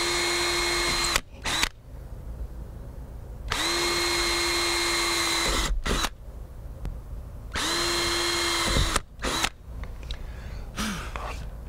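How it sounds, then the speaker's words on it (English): Power drill pre-drilling a fiberglass trailer wall to mount a back-up camera bracket: three loud, steady whining bursts of a few seconds each, separated by brief pauses and small knocks, with no talk. "we're going to pre-drill the fiberglass so we can screw the bracket to the wall"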